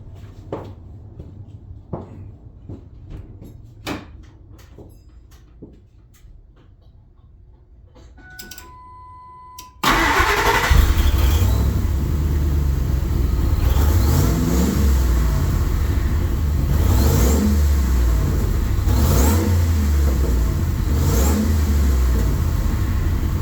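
An engine fires up abruptly after a stretch of quiet clicks and taps, then runs loud and steady with rough revving, close by with no talk.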